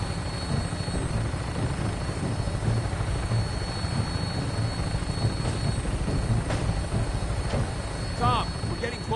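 A steady, whirring vertibird aircraft drones continuously in flight in Fallout 4, its engine and rotor noise filling the scene with a dense, unbroken hum, with game voices occasionally over it.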